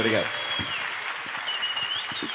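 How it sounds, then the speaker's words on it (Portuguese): Forum talk show audience clapping, a steady moderate wash of applause heard from a distance, with a brief voice at the start and faint voices under it. "Primeiro, uma salva de palmas, né?"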